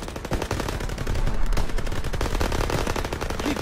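Machine guns open fire in Call of Duty WWII, a dense, continuous rattle of rapid gunfire, loud and close, with overlapping bursts filling the whole stretch.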